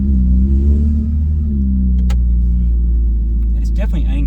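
A Corvette Z06 convertible engine with modified exhaust rumbles low, steady and throaty, its pitch shifting slightly as it revs, close and loud, with some background noise.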